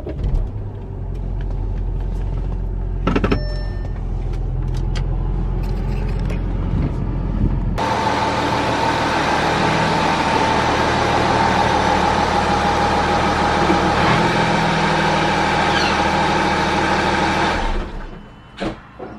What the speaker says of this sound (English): I'm going to pull in the car because we need to be on flat ground to recalibrate the height